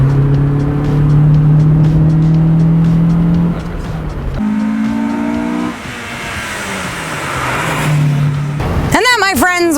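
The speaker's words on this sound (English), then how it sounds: "I really enjoy, you know, the B18 C5 engine. It's really high revving" A 1998 Acura Integra Type R with its B18C5 engine revving hard, rising and falling through the gears in a loud, close, continuous drone, with a voice talking over part of it.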